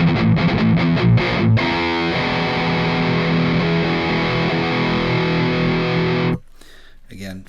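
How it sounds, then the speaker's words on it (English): Heavily distorted electric guitar through a Master Effects Martyr distortion pedal with the gain turned all the way up, playing sustained chords with a thick, saturated tone, loud and continuous, cutting off abruptly near the end. "use it as a distortion pedal with the gain turned all the way up"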